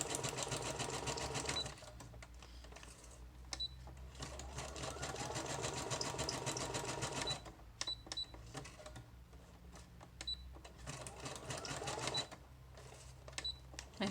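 A sewing machine stitches through a packing-paper journal, its rapid needle clatter running in long close bursts with short pauses between.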